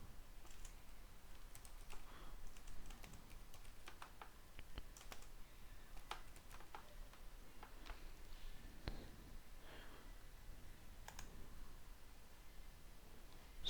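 Typing on a computer keyboard: quiet, irregular key clicks that come in uneven bursts and scattered single taps over a faint steady hiss, with no talking.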